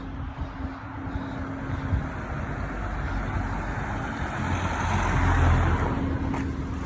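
A car speeds past on a road while a dog chases it, its engine and tire roar steady and close, swelling louder toward the end as it passes.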